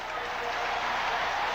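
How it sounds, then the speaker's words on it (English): A big stadium crowd at a 1983 NFL football game, Miami at New Orleans, cheers and applauds in a steady, dense roar of clapping and crowd noise filling the whole moment. "This big crowd likes what they see."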